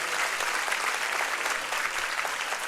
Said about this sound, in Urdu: تو ایک بار پھر اپنے لیے یہ تالیاں بجائیں